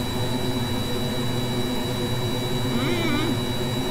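A craft's engine in the Kerbal Space Program video game roars as a steady, loud drone with a constant high whine, briefly wavering in pitch near the end.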